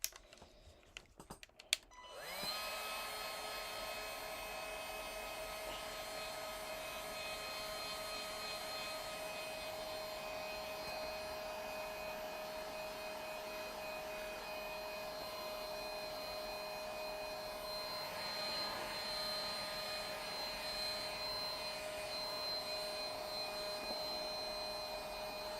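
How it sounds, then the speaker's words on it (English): A heat gun blows hot air over a painted Glowforge sign. It starts after a few clicks and a short pause, then runs as a steady, close whine with a constant pitch for the rest of the clip. "I'm getting hot using the heat gun."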